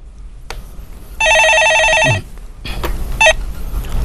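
A telephone rings with an incoming call during a Korean stock-market call-in broadcast, one bright electronic trill lasting about a second amid faint studio noise, followed by shorter clicks and a brief tone.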